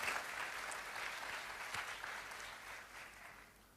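A church congregation claps during a sermon, a soft, distant wash of applause that gradually tapers off.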